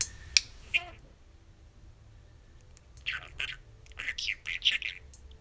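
A pet budgie named Kiwi imitates a person's laugh indoors: a few sharp clicks at first, then a burst of bright, choppy, chirping notes that rise and fall in quick laugh-like pulses. The bird is close but fairly quiet.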